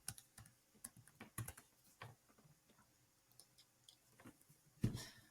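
Password being typed on a computer keyboard: irregular bursts of soft, close key clicks spread across the clip, ending with a louder keystroke near the close, with no talking.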